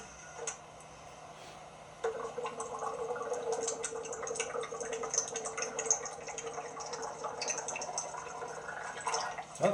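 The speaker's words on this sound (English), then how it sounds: "Oh, there goes all the water." Water bubbles and gurgles out of a container as gas displaces it, a steady run of glugging and dripping that starts abruptly and continues over a faint low hum.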